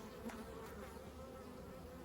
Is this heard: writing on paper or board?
no